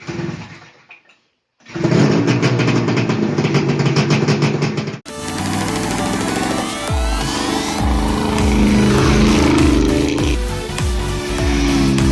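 A four-wheeler ATV fitted with a 550 two-stroke snowmobile engine sputters to life after a brief gap, then revs hard into a loud, buzzing, sustained roar that climbs in pitch, close to the listener.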